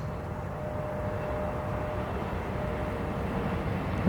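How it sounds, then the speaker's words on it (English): A Delta Connection plane arriving from LaGuardia after a go-around produces a steady, distant, broadband jet rumble that swells slightly toward the end, heard alone with no voices. "Delta Connection 5163 inbound from LaGuardia"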